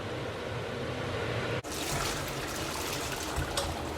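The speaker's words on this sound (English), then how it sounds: "So now the pasta is ready and we're going to drain it." Cooked pasta being drained, with its cooking water partly saved, makes a steady pouring wash of water that cuts off briefly partway through and then carries on with a brighter splashing rush.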